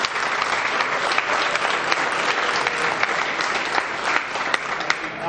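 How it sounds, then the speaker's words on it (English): A crowd applauds the sponsors at a fishing tournament captains' meeting, dense steady clapping that runs loud and unbroken from start to end. "Everybody give them a round of applause."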